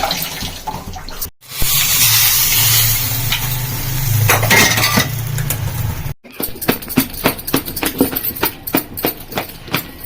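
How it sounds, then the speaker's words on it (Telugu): Water poured into a pot of rice, a close splashing gush with a low hollow tone for a few seconds, followed by scattered clicks and taps of kitchen handling. "ఇప్పుడు రైస్కు తగ్గట్టుగా వాటర్ వేసుకోవాలి"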